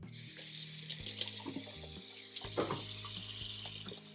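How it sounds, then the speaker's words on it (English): Tap water runs steadily into a cooking pot in a home kitchen, a continuous close splashing hiss for the whole stretch with small clinks of the pot against the sink and no talking. "So let's get our water added in here."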